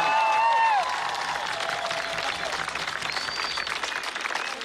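Applause from a crowd at a public rally in Ijevan, Armenia, a dense, steady patter of many hands clapping, with a brief voice at the start and some scattered cheering.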